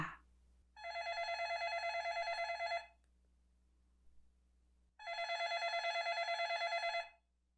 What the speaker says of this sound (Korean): 새벽의 벨소리가 점점 크게 울렸다.